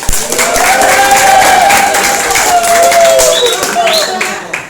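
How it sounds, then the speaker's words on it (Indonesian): Classroom applause for a student group's ecosystem diorama: steady clapping from a class throughout, with voices calling and chattering over it. "silakan kasih tepuk tangan"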